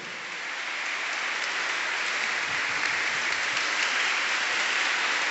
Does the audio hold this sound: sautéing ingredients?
no